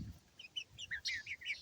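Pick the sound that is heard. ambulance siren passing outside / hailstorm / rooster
rooster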